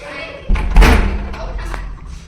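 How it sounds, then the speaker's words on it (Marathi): A door is shoved hard and slammed inside a home at the end of a day, giving a sudden loud thump and a heavy bang followed by a lingering rumble. Voices are faintly audible in the background. "मी जोरात ढकलणार आहे दार आता"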